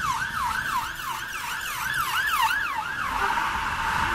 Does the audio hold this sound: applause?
no